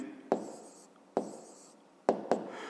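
Pen on paper as an answer is written down for a 5th-grade math exercise, a few short scratchy strokes close by, separated by brief pauses.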